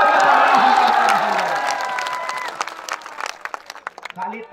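A large crowd at an outdoor election rally claps and cheers loudly with whoops, the applause thinning out over a few seconds into scattered claps and murmuring voices.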